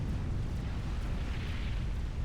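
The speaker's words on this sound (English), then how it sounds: "Explosion somewhere on the map." Explosion in a Supreme Commander battle, heard as a continuous deep rumbling roar with dense low-end noise, sustained and loud throughout without a distinct single blast, no voices.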